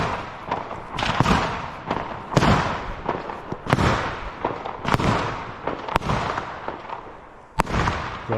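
Fireworks on Bonfire Night go off nearby in a rapid irregular series of sharp cracks and bangs, some louder than others, with crackling between the blasts and no talking.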